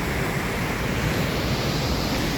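Athabasca Falls in Alberta, Canada roars as water cascades down, a loud, steady, broadband rush heard up close, with wind buffeting the microphone and no talk.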